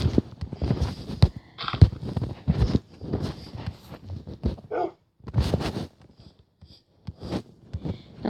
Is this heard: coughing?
no